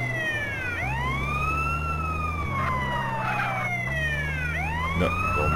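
An ambulance siren in the video game GTA San Andreas wails in repeating rising and falling sweeps over a low engine drone, loud and close, with no talk.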